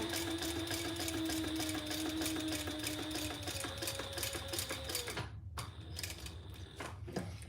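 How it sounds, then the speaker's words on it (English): Close, rapid whirring of a sewing machine top stitching a small fabric tab, steady for about five seconds, then a brief pause and a few slower stitches with light mechanical clicks. "I'm just going to top stitch my little tab"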